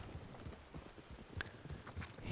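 Horse hooves clip-clop steadily at a walking pace in Red Dead Online, a quiet, rhythmic series of soft thuds with an occasional sharper knock, heard alone without talk.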